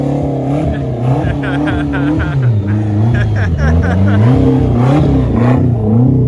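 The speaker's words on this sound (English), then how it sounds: "Four-wheel drive donut." A four-wheel drive car revs hard while spinning donuts on icy snow, its engine note rising and falling in loud continuous sweeps with a voice talking over it.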